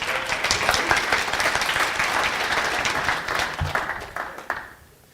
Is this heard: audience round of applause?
yes